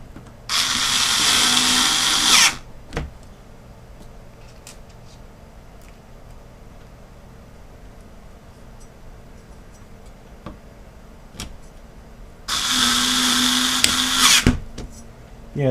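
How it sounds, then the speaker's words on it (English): A powered screwdriver drives screws back into a power supply cooling fan in two whirring bursts of about two seconds each, close up, with quiet clicks and handling noise in the long gap between them. "Let's go ahead and reinsert these screws."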